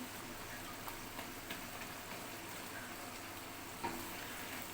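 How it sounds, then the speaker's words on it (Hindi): Tomatoes and water simmer and sizzle down in a karahi pan, a steady, fairly quiet frying hiss with occasional light stirring clinks. "अब हम इसका ये टमाटर और पानी है, इसको अच्छे से खुश्क कर लें।"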